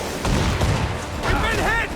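Broadside ship cannons in Assassin's Creed 4 Black Flag boom in a dense volley, heavy blasts layered over shouting voices and battle noise.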